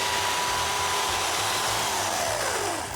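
A chainsaw cuts through a foot-thick block of ice in a loud, steady high-pitched whine with a slight dip near the end, heard alone and close up.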